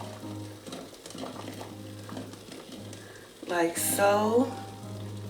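Blueberry pancake batter frying on a hot griddle, a soft steady sizzle with a louder burst of activity near the end, under a woman's brief quiet speech.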